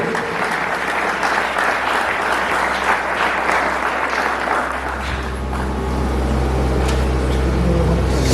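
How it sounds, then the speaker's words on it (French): Sustained applause from an audience at a church community graduation ceremony, welcoming a ladies' choir; steady dense clapping throughout, with a low rumble building under it toward the end. "sous le cri de vos applaudissements, on accueille la chorale des dames de l'église communautaire du Christ"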